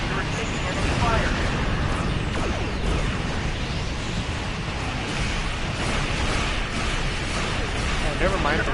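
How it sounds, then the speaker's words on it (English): Space battle in Star Trek Online with a starship under enemy fire, dense continuous rumbling blasts and explosions forming a loud, unbroken wall of combat noise. "The Liberator is taking enemy fire."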